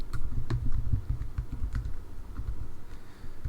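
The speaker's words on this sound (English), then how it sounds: "Did my wireless keyboard hit all the keys I thought it did last time?" Quick, soft clicking of keys being typed on a wireless computer keyboard, a steady irregular patter up close with no talking.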